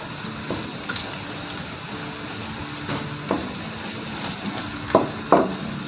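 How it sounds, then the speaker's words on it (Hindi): Ginger and garlic sautéing in a pan, a steady soft sizzle with occasional clicks and scrapes of stirring, close and without talk. "अदरक और लहसुन को हमने बिल्कुल वो ब्राउन नहीं करना, बस सिर्फ सौते करना है 1 से 2 मिनट के लिए।"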